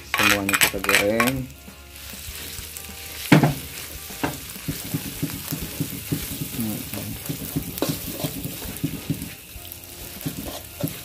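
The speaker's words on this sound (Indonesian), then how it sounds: "Semuanya kita goreng." A chili, shallot, garlic and peanut mixture fries in a pan for a spicy sauce, a steady close sizzle broken by repeated scraping and clinking of a utensil stirring against the metal.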